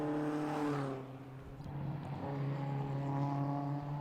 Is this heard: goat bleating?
no